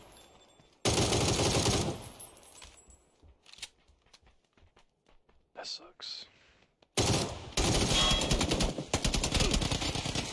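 Video game gunfire in a multiplayer shooter comes in two loud, dense bursts of rapid automatic fire, with scattered single shots and quieter gaps in between.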